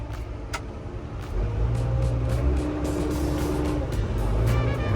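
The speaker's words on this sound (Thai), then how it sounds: "ลองขับกันนิดนึงนะฮะ" A Komatsu WA200-1 wheel loader's diesel engine drones as the machine is driven, picking up and holding louder after the first second, with rattles and clanks over the steady engine noise.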